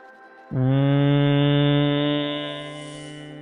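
A single steady low hum sung on one sustained pitch as part of an Om meditation chant, rich and droning, entering after a brief pause and slowly fading near the end.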